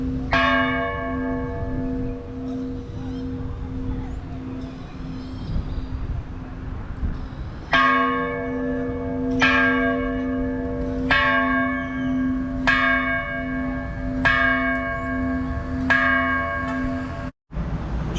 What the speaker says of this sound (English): where the bell was placed, where it was just chiming